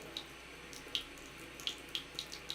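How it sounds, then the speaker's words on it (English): Water runs steadily from a household tap into a sink, a soft continuous stream with small splashy drips recurring every half second or so, heard up close with no talking. "He likes to see the water running."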